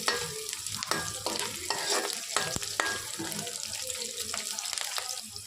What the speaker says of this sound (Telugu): ఆనియన్స్ అనేవి కొంచెం ఫ్రై అయ్యాయి కదండి, లైట్గా ఫ్రై అయ్యాయి